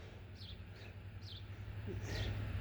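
Wild birds chirp outdoors near a feeder and birdhouse, several quick high tweets repeating over a steady low background rumble.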